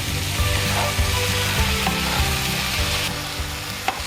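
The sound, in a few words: beef and flowers sizzling while being stir-fried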